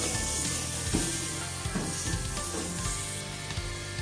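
Peas frying in a pan for matar gosht, a dense steady sizzle with a faint hum and a few soft stirring knocks, heard up close.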